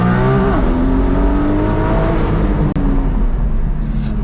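A Porsche 718 GT4 engine revving under an overpass, a loud, echoing rasp whose pitch sweeps up and down across rapid gear changes, with a brief sharp click midway.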